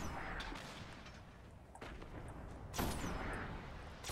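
Gunfire in a PlayStation 3 shooter game: sustained rumbling battle noise with a few sharper cracking shots and a swelling blast near the end, fairly quiet overall.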